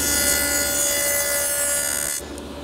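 A table saw cuts a rabbet test sample in a piece of wood, a steady, loud whining cut that runs close and uninterrupted for about two seconds before the blade noise drops off near the end.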